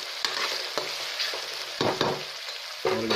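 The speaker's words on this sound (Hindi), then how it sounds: "हल्का सा ही फ्राई करना है" Onions fry lightly in a pan with a steady soft sizzle, broken by a few scraping stirs and the clatter of a spoon. The sound is close and there is no talking.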